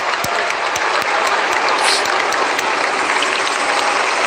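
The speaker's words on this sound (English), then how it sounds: "as we listen, Alistair Breeze, to the applause through the streets of Rome" Steady crowd applause fills the streets of Rome during Pope Francis's funeral, a dense, continuous wash of distant clapping with a few sharper individual claps standing out.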